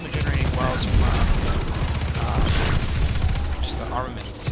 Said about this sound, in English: it's just explosions galore over here